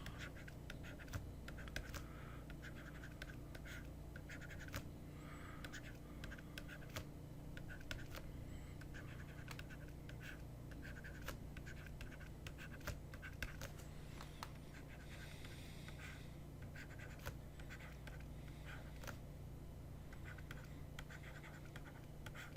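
Pen or marker scratching steadily across a board or paper while working through a two-body algebra derivation, a quiet, continuous run of small strokes and taps with no talking.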